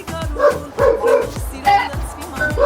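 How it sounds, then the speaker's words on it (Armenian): Several dogs bark repeatedly in a neighbourhood in Metsamor, Armenia, giving about five loud, close, rough barks in quick, uneven succession, with faint human voices in the background. "Ինչ ես դու հաչում, արա։"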